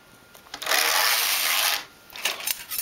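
A knitting machine carriage sweeps across one row of needles, a steady loud mechanical rasp lasting about a second, with lighter clicks and handling noises before and after.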